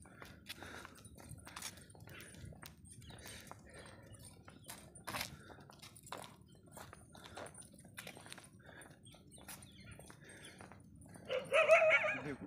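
Rottweilers bark at another dog in a brief loud burst near the end, following a stretch of faint footsteps and low background noise.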